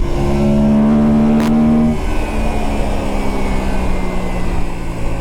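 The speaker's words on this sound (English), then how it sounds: "it sounds like a bloody Hornet when you put the revs on it" An Aprilia Tuareg 660 adventure motorcycle's engine holds a high, buzzy whine while being ridden. It drops off about halfway through, leaving a rougher, lower drone over steady road and wind noise.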